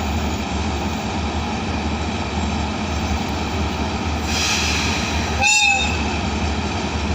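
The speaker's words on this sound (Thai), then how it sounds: "ทำขบวนมาโดยฮิตาชิ 4522 นะครับ อีกสักครู่จะเคลื่อนตัวเข้าสู่สถานีนครปฐมครับ" A Hitachi 4522 diesel locomotive hauls the Thaksin Special Express 38 into Nakhon Pathom station. A loud, steady rolling rumble builds, and a short horn blast sounds partway through.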